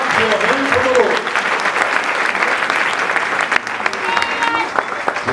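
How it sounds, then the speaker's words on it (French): A church congregation at an evangelistic mission gathering in Montréal claps for the Lord: dense, continuous, loud applause from a crowd, with voices mixed in throughout. "Acclamons le Seigneur. With the clap your hands for the Lord."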